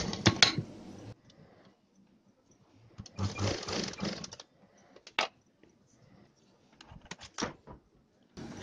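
A sewing machine stitches the neck of a blouse in short bursts of rapid mechanical whirring, broken by quiet pauses and a few isolated clicks and taps, close by with no talk.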